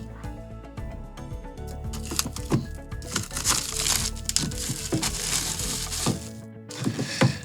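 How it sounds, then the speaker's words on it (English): Packaging for OneOdio StudioMax 1 headphones, a black gift-style box, is unboxed up close: continuous crinkling and rustling of plastic and paper with frequent sharp cracks and taps, fairly loud and without talk. "let's unbox"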